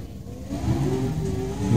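Porsche 911 GT3 RS sports car engine running close by, a steady mid-pitched drone that rises slightly as it revs, heard alone without talk.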